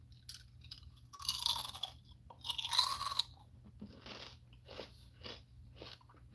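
Lay's kettle cooked original potato chips being crunched and chewed up close, several loud crisp bites in bursts followed by softer rhythmic chewing crunches, with no talking.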